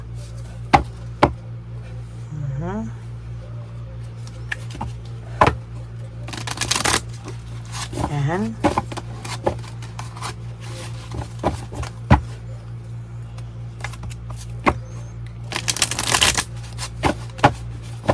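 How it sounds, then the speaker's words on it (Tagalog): Playing cards being shuffled over a steady low hum, with two or three separate bursts of riffling and bridging spread across the stretch, plus small handling clicks between them. "balasahin muna po natin itong ating baraha"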